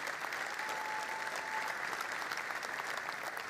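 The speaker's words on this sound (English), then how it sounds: "Give yourselves a real round of applause." Steady applause from a large audience at the 2020 OurCrowd Global Investor Summit, dense and continuous throughout with a faint tone briefly above it.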